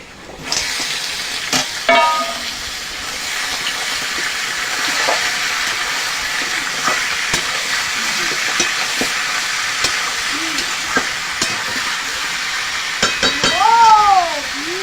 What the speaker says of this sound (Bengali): পেঁয়াজটা এরকম লাল লাল করে ভেজেছি, এবার মাংসটা দিয়ে দেব।